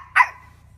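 A child imitates a dog's bark with a single short, sharp yip-like vocal bark, close and clear against a faint low background hum.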